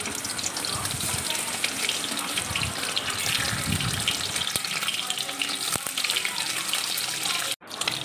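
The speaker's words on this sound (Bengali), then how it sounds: "কড়াটা গরম হয়ে গেছে, আমি এতে তেল দিয়ে দিয়েছি। এবার আমি ডিমের টুকরোগুলো হালকা করে ভেজে নেবো।" Egg pieces fry in hot oil in a wok, giving a loud, steady sizzle and crackle that runs throughout with no voice over it.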